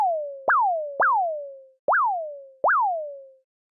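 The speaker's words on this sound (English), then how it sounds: "assign pitch to envelope 2, which is going to give a rising pitch sound" A synthesizer note plays four times in an uneven rhythm, each with an abrupt upward pitch sweep that rises and then settles into a decaying tone, clean and close with silence between hits.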